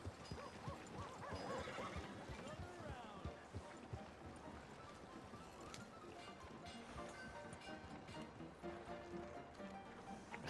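A horse in the Red Dead Redemption 2 video game whinnies over a steady patter of hooves at a moderate distance, with faint game ambience and no talk.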